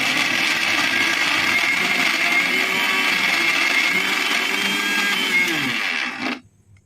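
A mixer grinder blends radish chutney, a loud steady motor whir with rising pitch that runs continuously for about six seconds, then cuts off abruptly into silence.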